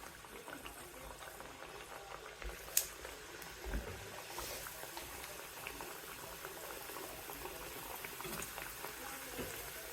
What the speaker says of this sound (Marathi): तेल तापत ठेवलेलं आहे कडकडीत तापलं की मग आपण गॅस थोडा मिडियम करूया आणि आपण ह्याच्यामध्ये असे हे वडे टाकून घेऊया